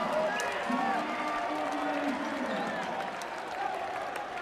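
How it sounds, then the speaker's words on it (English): Basketball arena crowd in Montana roaring after a two-hand slam by the home team, a sustained broad wash of cheering and noise with a commentator's voice over it throughout. "The crowd electrified in Montana."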